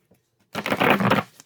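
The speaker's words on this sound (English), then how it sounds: "One more shuffle." A quick riffle of tarot cards being shuffled, a short crisp burst of papery flutter lasting under a second, close by.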